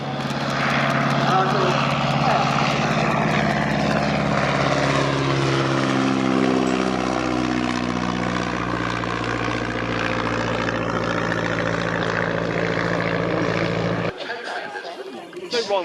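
Vintage propeller aircraft at the Shuttleworth airshow, its loud, steady engine drone shifting gradually in pitch as it passes, then cutting off sharply near the end, with voices talking over it.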